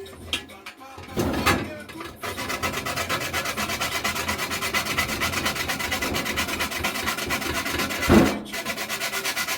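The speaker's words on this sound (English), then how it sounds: "We're going to start by grating our nutmeg wherever you are." Whole nutmeg is rasped against a grater for Nigerian party doughnuts, making a close, continuous scratchy rubbing in quick, even strokes, with a couple of louder scrapes at the start and near the end.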